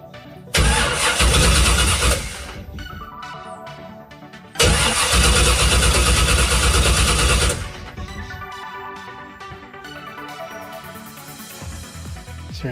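A car fitted with a newly swapped automatic transmission in place of its manual cranks and fires twice, each start a loud roar that holds for a few seconds before dropping to a steady idle.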